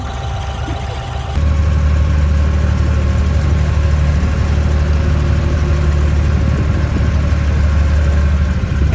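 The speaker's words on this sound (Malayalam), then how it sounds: "അങ്ങനെ ഞങ്ങൾ ബോട്ടിൽ കയറി" A boat engine on a Dubai creek gives a steady, loud drone with a deep low rumble, kicking in after a second and running continuously.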